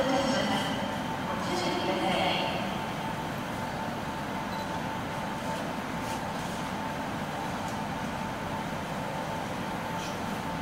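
The Hamanasu night express pulls out of Sapporo station with a steady, moderately loud rail rumble and hum that holds evenly throughout, with faint station sounds in the background.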